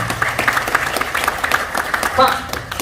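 Audience members at a presentation on debt repayment clap together in a sustained round of applause, dense and close, with a voice briefly speaking over the clapping near the end.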